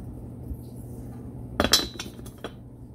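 Metal piston oil ring from a 1971 Moto Guzzi handled on a hard surface, a short cluster of bright clinks and light taps near the middle, close and fairly crisp over a quiet background.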